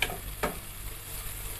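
Onions frying in hot oil in a pan while being stirred, a steady close sizzle with a brief scraping stir sound, no voices.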